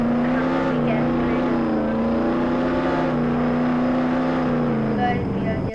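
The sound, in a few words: Lamborghini car driving in video game Jailbreak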